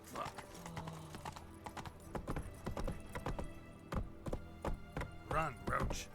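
Roach the horse gallops in The Witcher 3, hooves clip-clopping in a quick rhythmic beat at close range, with a brief whinny and a voice speaking over it.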